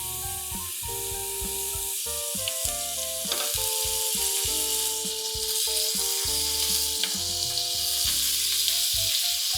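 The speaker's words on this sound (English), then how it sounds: "I'm also going to turn on my back burner so I can start sauteing my snap peas." Beef and snap peas sizzle in a pan on the stovetop, a steady loud frying hiss that runs throughout under a continuous music bed, with no talking.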